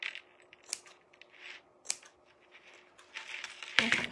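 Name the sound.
scissors cutting old denim jeans fabric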